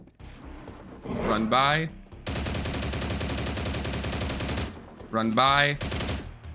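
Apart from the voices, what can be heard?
gunfire shooting a ghoul in STALCRAFT X video game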